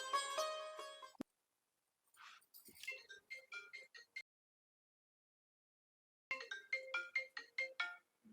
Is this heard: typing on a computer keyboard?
no